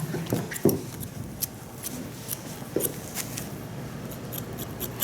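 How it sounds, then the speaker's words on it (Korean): Scissors held upright snip through hair during a haircut. A series of soft, quiet clicks and crisp cuts comes at an uneven pace, close by, with no talking. "이 가위도 그런 느낌으로 커트를 하시면 돼요"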